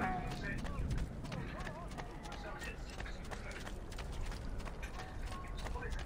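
Horse hooves clip-clop steadily in Assassin's Creed II, a continuous near trotting rhythm over busy game ambience, with someone talking over it.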